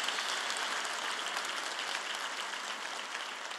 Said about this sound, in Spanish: Dale un aplauso de gloria a Él.